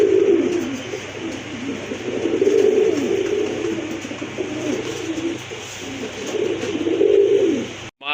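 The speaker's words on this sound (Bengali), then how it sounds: "অনেক সুন্দর, খুবই কিউট এক জোড়া কবুতর।" A pair of Sua Chandan pigeons coo repeatedly up close, with rolling low calls rising and falling over a faint background hum.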